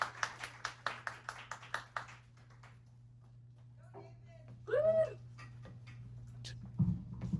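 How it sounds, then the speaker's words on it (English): An audience welcoming a guest to a live show with a short burst of rhythmic clapping at the start, which fades quickly into quiet with scattered voices and small noises. "Will you please give lots of welcome applause for Mr."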